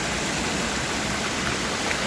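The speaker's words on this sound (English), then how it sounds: "It's only a little sort of river waterfall thing." Small river waterfall pouring steadily, a broad, even rush of falling water heard close and alone.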